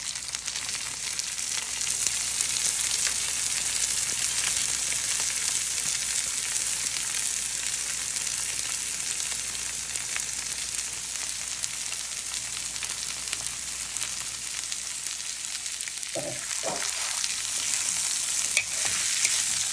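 Corn kernels sizzle and fry in a pan with garlic and butter, with steady hissing and soft scraping stir strokes throughout; a few louder clatters of the utensil come near the end.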